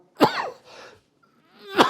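Two sharp coughs, one at the start and one at the end, with a rough throaty sound between them, close and fairly loud.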